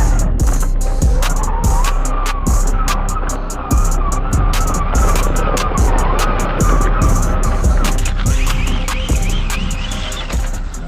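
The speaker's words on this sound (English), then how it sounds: "I'm gonna try to drift around these poles" A Kyosho Fazer MK2 1/10 RC car with a 1972 Mazda Savanna GT body drifts around poles in a yard. Its electric motor whines loudly and steadily, with rapid clicks and scrabbling wheel noise throughout.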